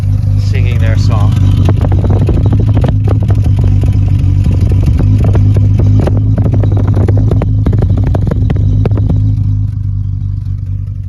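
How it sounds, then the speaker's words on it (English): A loud idling classic car engine rumbles steadily through twin exhausts, a deep throaty drone close by with light mechanical clatter on top. "We can get a listen to the twin pipes back here singing their song."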